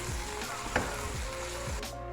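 Marinated chicken fries in hot oil with onions, a steady close sizzle with faint stirring scrapes throughout.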